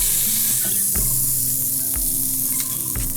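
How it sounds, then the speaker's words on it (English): Loud, steady sizzling of lamb chops searing in a pan on high heat, with occasional clinks and scrapes of a utensil over the continuous crackle. "When searing, it has to be on high heat."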